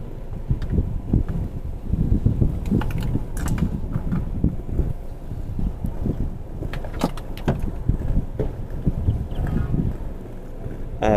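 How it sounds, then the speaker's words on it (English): Strong wind buffets the microphone in continuous low rumbling gusts, loud and close throughout. "It's very windy here."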